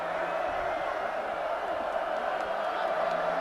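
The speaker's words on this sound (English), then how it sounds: "Crowd getting into it." Football stadium crowd at a college game between Arkansas State and Utah State, a steady broad roar of cheering from thousands of fans, sustained and distant-sounding with no clear breaks.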